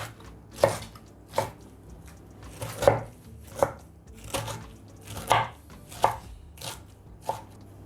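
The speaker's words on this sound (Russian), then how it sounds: "мы измельчаем квашеную капусту" A knife chops through drained sauerkraut on a board in about ten separate, evenly spaced strokes, each a crisp, close thud with a wet crunch.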